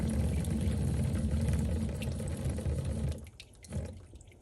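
Water streams from pump-driven fountain outlets in a steady close rush with a low pump hum beneath, then cuts off abruptly near the end, leaving only faint drips and a brief splash.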